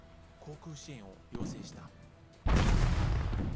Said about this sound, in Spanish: Disparo de mortero.